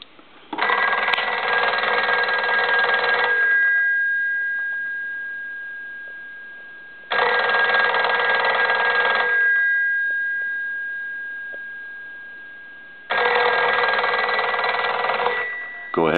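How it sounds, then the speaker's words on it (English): A Western Electric 302 desk telephone bell rings in three long bursts of about three seconds each, loud and close, with quiet pauses between rings. "we're going to go ahead and ring this telephone."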